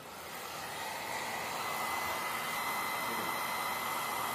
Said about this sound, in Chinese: 如果万一没有干，最后一遍也可以把它吹干